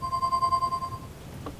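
Phone ringtone in the Leisure Suit Larry Wet Dreams Dry Twice PC game, a bright repeating electronic trill sounding clearly for about a second over low background game ambience, then stopping.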